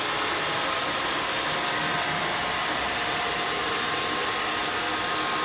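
An Alfawise A6 robot vacuum runs continuously while vacuuming and wet mopping, giving a loud, steady, broadband whooshing motor drone with no pauses, heard up close and with no talking.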